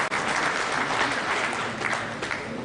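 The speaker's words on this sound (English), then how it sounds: "Please give him a better round of applause." An audience at a Nigerian consulting engineers' association event gives a full round of applause, a dense, sustained clatter of many hands from start to finish.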